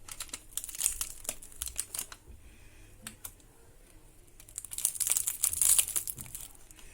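Crisp, crackly crunching of fried lentil and poppy seed börek pastry made from yufka comes in bursts of brittle crackles, close up, with a quieter pause in the middle and no talking.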